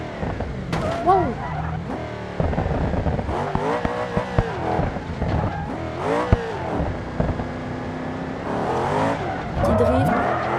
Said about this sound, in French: Petit drift